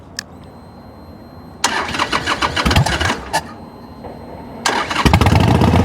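A key click, then a Ford F150 engine cranks and catches with a sputtering roar, dies briefly, and is started again into a rough, close idle.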